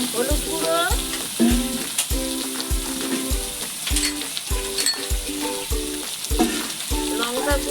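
Green chili paste, cumin, turmeric and red chili powder fry in a pan for a watermelon-rind curry, a steady loud sizzle under regular, evenly spaced stirring clinks and scrapes up close.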